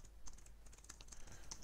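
Keys tapped on a computer keyboard while a greeting message is typed, a quick run of close, soft clicks at an irregular rhythm over a low background hum.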